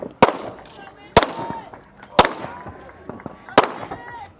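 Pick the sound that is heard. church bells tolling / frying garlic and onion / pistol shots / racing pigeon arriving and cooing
pistol shots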